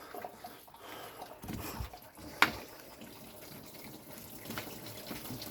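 Coolant draining from an Audi A4 B8 after the cap is removed, a close, continuous splashing trickle of liquid pouring into a collection pan, with a sharp knock partway through.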